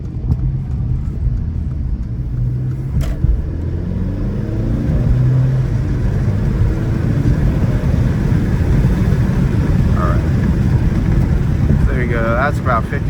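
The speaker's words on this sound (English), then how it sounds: "I'm not sure how loud you guys heard the turbo sounds, but they were there." A 2016 Mercedes CLA 250 pulls away at half throttle, its engine rumble climbing steadily as the car gathers speed, with faint turbo whistle and wind noise through partly open windows.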